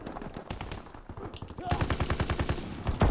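Rapid automatic gunfire in Call of Duty, a steady stream of close, evenly spaced shots that grows louder in the second half.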